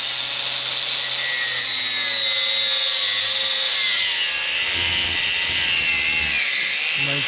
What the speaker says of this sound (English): Yeah, Mike's mint, fully charged grinder